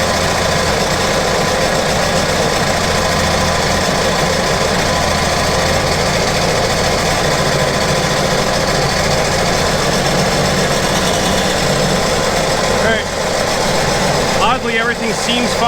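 A 2014 Sea-Doo GTX 215 personal watercraft engine runs steadily during a cylinder shutdown test, a loud, rough, knocking drone close by, with a brief metallic rattle near the end.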